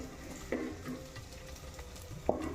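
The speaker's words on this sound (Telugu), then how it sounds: "ఉల్లిపాయలు వేగిపోయిన తర్వాత ఇప్పుడు వేసి అలా చికెన్" Chicken goes into a pan of fried onions for gongura chicken curry, making a low, quiet sizzle with two brief metallic clinks of a utensil, close by and without talk.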